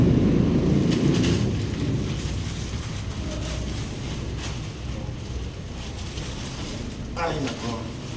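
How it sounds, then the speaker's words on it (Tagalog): Rain pours onto a flooded road in a dense, steady roar, loud and close, with wind buffeting the microphone and no talk over it. "Ulan."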